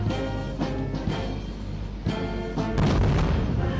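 Heavy booming blasts, several deep thuds at irregular intervals over a dense rumbling background, loud and close, with a sustained roar building near the end.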